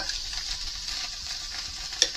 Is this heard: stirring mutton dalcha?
yes